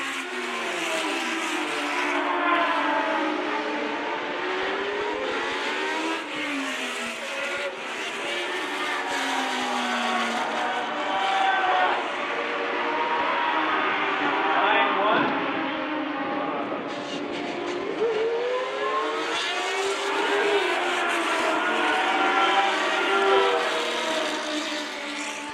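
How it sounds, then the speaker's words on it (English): Vintage Formula One race cars scream around a track during a reunion race, their engines wailing and rising and falling in pitch as they pass in waves, with a commentator's voice running underneath. "We are halfway through this first race of the day for the Formula One cars."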